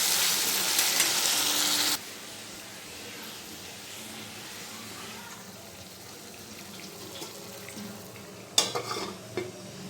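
Meat sizzles and is stirred in a pan in a home kitchen. A loud burst of frying opens the scene, then quieter sizzling continues, broken near the end by a few sharp utensil scrapes.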